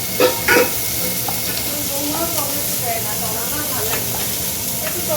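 Chopped cabbage, onion and capsicum fry in a pan with a continuous sizzle, broken by a few clinks of stirring and faint background voices.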